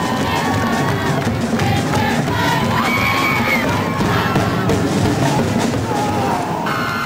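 A crowd at a girls' high school basketball game against Trenton cheers and shouts continuously and loudly, with whoops and children's yells rising above the roar throughout.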